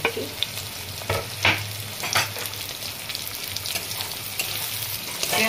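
Chopped onions and green chilies fry in oil with a close, steady sizzle. Stirring scrapes break in now and then, and there is no speech.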